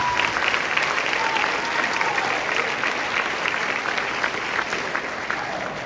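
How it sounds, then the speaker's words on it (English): Loud, sustained applause from a concert audience at an elementary school music event, with dense clapping and occasional faint cheers that taper slightly toward the end. "So let's give the entire music department a nice big round of applause."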